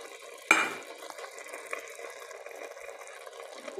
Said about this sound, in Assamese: এতিয়া ইয়াতে মই এই ভাজি থোৱা কাজু খিচমিচকেইটা দি দিছোঁ।